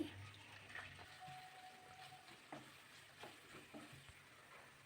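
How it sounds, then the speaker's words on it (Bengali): A low, steady sizzle of chopped onions frying in hot oil in a pan, faint and continuous, with a few soft stirring scrapes. "প্যানে পরিমাণ মতো তেল দিয়েছি অ্যাড করছি পেঁয়াজ কুচি"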